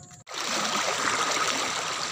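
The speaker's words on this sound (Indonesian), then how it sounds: "Kita sekarang lagi menyeberangi sungai." Steady rushing flow of a river being crossed on foot, close and continuous after a brief silence at the start, with no talking over it.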